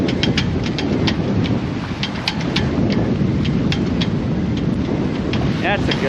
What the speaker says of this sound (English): That's a gust.